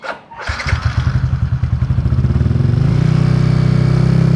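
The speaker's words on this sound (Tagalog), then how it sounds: "paandarin yung motor" A motorcycle engine starts with a thump and settles into a loud, steady idle, its rapid pulsing firing rhythm growing stronger and more even.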